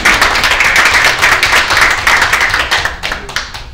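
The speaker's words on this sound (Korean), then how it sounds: "박수로 한번 환영하겠습니다." Audience applause welcoming a speaker to a church missionary seminar, dense sustained clapping from many hands that thins slightly toward the end.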